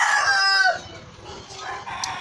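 A pet rooster kept at home crows once, loud and near, the call trailing off into quieter background clucking.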